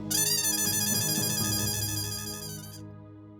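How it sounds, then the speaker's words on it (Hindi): A bright electronic ringtone plays steadily for about three seconds through a phone speaker, then cuts off abruptly, with a low hum underneath. "मैं ना सुनीता को फोन करती हूँ।"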